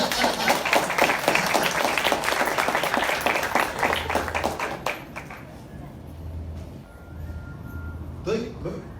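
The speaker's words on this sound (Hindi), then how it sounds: "ताली बजा।" Audience applause at a church sermon, a dense burst of clapping hands that thins and fades as a voice speaks over it.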